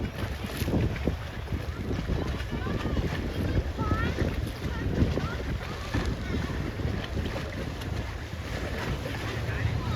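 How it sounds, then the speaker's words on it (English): Steady wind buffets the microphone aboard a small sailing dinghy racing at a Sabot ILCA regatta, a continuous low rush with water wash beneath and faint voices in the background. "Oh, it's getting windy here."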